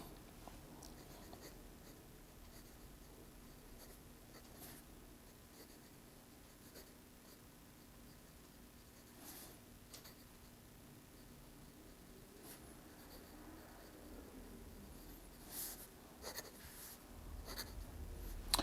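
A Diplomat Traveler fountain pen writes fast across paper with a steady, faint scratchy rasp and occasional light taps. It is close and quiet, with no talk.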